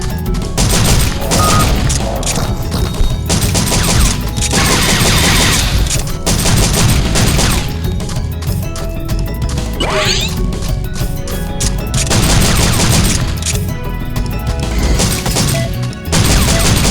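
Gunfire in the video game Dino Stalker, loud repeated shots and crashing impacts over constant game sound, with brief pauses between volleys.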